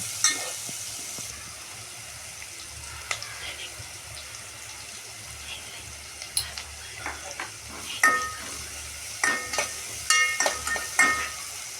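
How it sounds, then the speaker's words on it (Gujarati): Onions fry in a pan with a constant low sizzle as a utensil stirs and scrapes, the clicks and knocks growing sharper and more frequent toward the end; no one talks. "અને આપણે આ ડુંગળી નાખી દઈએ। એને હળહળવા દેવાનું છે।"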